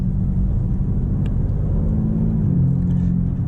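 A steady, deep engine rumble from a BMW M4 CSL sports car idling nearby, low and constant throughout with no breaks.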